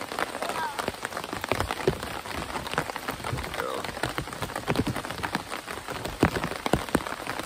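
Rain falling during a thunderstorm at a backwoods campsite, a dense steady patter of drops striking a tent rain fly close by, with irregular louder splats throughout.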